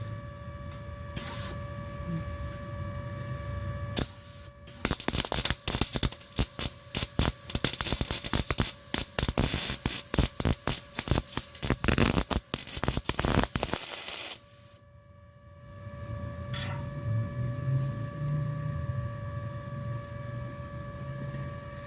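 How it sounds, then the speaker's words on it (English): Welding a bracket onto the exhaust of a 1972 Pontiac LeMans gives a harsh, crackling buzz that runs for roughly ten seconds in the middle, close and loud, framed by steady electrical hum before and after. "I'm gonna try to weld a little bit on"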